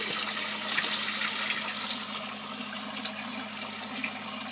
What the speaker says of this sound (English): The water comes up through a stand-up pipe and flows back downward.